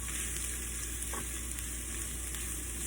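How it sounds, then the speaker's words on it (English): Five cloves of minced garlic fry in hot oil in a pan with a steady, dense sizzle, and a spoon stirs them with a brief scrape. The sound is close and continuous, with no voices. "Our 5 cloves of minced garlic going in."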